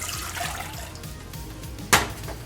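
Water pours steadily into a cooking pot for South Korean yaksik, a soft continuous wash of liquid with a brief louder splash or knock near the end, heard up close without talk.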